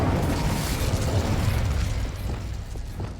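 A fire spell blast in the video game Hogwarts Legacy, heard as a loud, sustained fiery roar and rumble that fills the clip before easing slightly toward the end.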